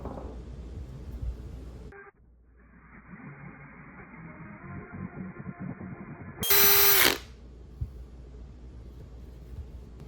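An electric drill with a bit bores a hole through a pot, whining steadily for several seconds, with a sharp, louder high-pitched burst near the end as the bit breaks through.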